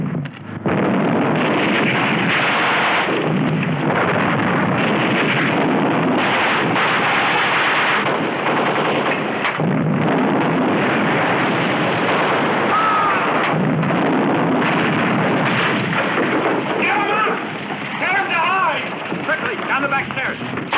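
A volley of gunfire from an execution squad erupts after a shouted command in a 1978 Holocaust drama, loud, dense booming shots mixed with shouting voices and chaotic noise over about twenty seconds.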